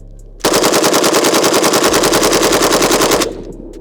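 A 7.62x39 RPK rifle fires a single sustained burst of rapid, evenly spaced shots lasting about three seconds. The shots are loud and close, with a short echo tail afterward.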